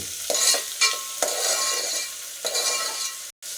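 Boiled chana dal gets stirred into a sizzling tempering in a pan, with repeated scraping strokes of a spoon over a steady frying hiss, close and fairly loud, ending in a brief cut to silence.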